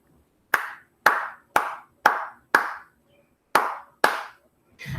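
One person claps out a vegetable-word rhythm in a kindergarten lesson: seven sharp, close hand claps. Five come evenly spaced, then a short pause before two more, with a final clap starting at the end.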